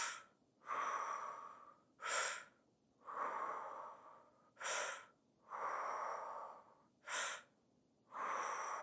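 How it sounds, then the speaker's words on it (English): Slow deep breaths in and out through the mouth during a fascial movement class: long airy exhales alternating with short sharp inhales, about six cycles, close and quiet with no talking. "Breathing in 6 breaths, in through the mouth, out through the mouth."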